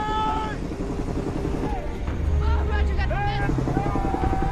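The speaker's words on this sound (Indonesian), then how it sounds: "mereka melihat helikopter mendekat" A helicopter approaches in a film scene, a rumbling rotor beat swelling beneath a musical score and shouted voices, growing louder and closer partway through.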